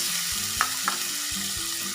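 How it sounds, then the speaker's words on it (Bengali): Salted potatoes fry in a pan with cumin seed tempering, giving a continuous bright sizzle with a couple of sharp pops and low stirring knocks underneath, close up and without speech. "আলু একটু ভাজা ভাজা করে নেব।"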